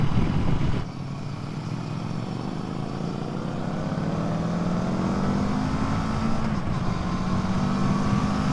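Kawasaki Versys 650 motorcycle engine droning steadily at riding speed, with a continuous rising and falling engine tone mixed with road and wind rush, loud and close throughout.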